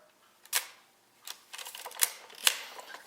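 Akarex 35mm film camera shutter fired at 1/100 second, a few sharp, close mechanical clicks spaced apart in an otherwise quiet room.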